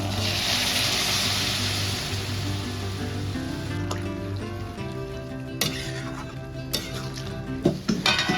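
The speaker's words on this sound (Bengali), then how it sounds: "এবার কড়াইয়ে সর্ষের তেল গরম করে কালো জিরে আর কাঁচা লঙ্কা ফোড়ন দিয়ে সব সবজিগুলো দিয়ে দেবো।" Vegetables are stirred in a wok after a mustard oil tempering of nigella seeds and green chilli, with a gentle sizzle fading under clinking and scraping of a utensil against metal, a few sharp knocks toward the end, and no talking.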